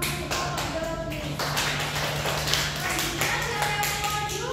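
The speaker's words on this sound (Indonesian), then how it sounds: "Berikan tepuk tangan untuk kelompok biologis." Students in a classroom clap for a biology group after their micro-teaching presentation on soil, a scattered, moderate round of hand claps with a steady hum underneath.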